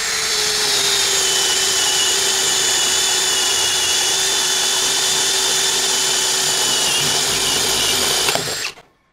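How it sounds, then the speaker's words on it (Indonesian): A DongCheng DCJZ2040i13 cordless impact drill in drilling mode at speed 2 runs at a steady high whine while boring into meranti wood, loud and continuous for several seconds before winding down. "masih speed 2 mode drilling, kayu meranti"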